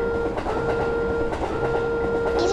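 A cartoon train rolls along its rails in a children's animation, giving a continuous rumbling run with rhythmic clickety-clack under a steady tonal hum.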